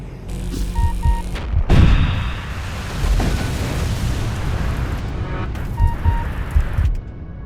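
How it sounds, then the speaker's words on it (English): Rift bomb detonations in the Void War space combat game, a series of heavy booming explosions with rumbling low-end tails, interspersed with sharp electronic beeps and mechanical game effects, loud and close with no talking. "We have to use the rift bomb as well."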